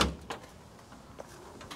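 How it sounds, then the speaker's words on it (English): The door of a 1930 Ford hot rod opens with a brief close metallic latch click and clunk, followed by faint handling noises. "You can open the door handle there if you want."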